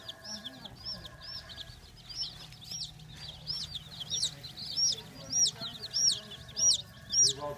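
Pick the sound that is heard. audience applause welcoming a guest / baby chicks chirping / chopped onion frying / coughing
baby chicks chirping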